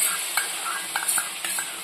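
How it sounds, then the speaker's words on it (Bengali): A spoon stirs ginger paste into a Bengali aloo dum potato curry in a pan, with light scraping strokes and small clinks over a faint sizzle, close and brief. "এবার আমি এটা ভালো করে মিক্স করে নেব।"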